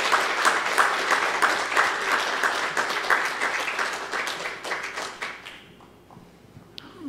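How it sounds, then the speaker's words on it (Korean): Audience applause fills a church hall during an elder ordination service, a dense steady clapping that runs for about five seconds before thinning out and fading to near quiet, with a few scattered claps at the end. "박수 해주시기 바랍니다"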